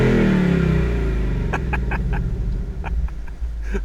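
A Ford Mustang Bullitt V8 with its exhaust mode switched: a deep, loud engine note that falls away after a rev, then settles into a lower burbling idle with a few sharp clicks over it.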